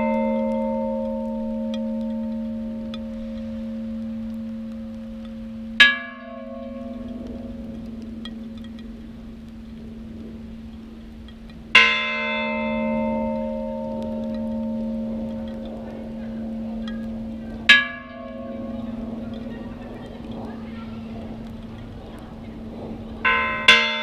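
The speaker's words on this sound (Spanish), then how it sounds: "Campana con la mano, ¿no?" A church bell in Espinosa de Henares tolls for the dead, rung by hand: four loud, clear strikes spaced about six seconds apart, each leaving a long humming ring, with faint background noise between.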